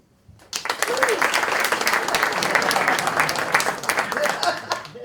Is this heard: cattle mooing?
no